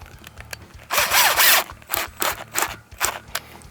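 A power driver sends a wood screw into a wall to fasten a Genie Clip: one longer whirring burst, then several short bursts as the screw is snugged, with a faint steady hum underneath.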